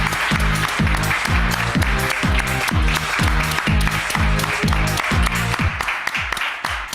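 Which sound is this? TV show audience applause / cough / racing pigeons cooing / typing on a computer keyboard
TV show audience applause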